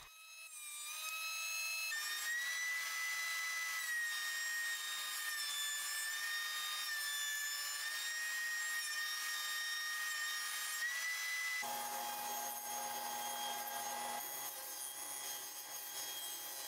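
A wooden board fed across a jointer for a workshop build, the cutterhead giving a loud, sustained high whine that shifts pitch as the board moves through, with a lower tone near the end and no talking.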